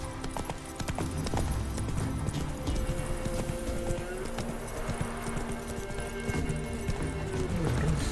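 A horse gallops in the video game The Witcher 3, with steady clip-clopping hooves running throughout over game music and ambience, and a brief whinny.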